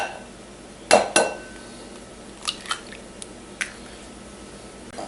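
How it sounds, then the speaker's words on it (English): Two quick cracking taps close together, followed by a few lighter clinks and drips against a bowl in a quiet room. "So just crack all your eggs into a bowl."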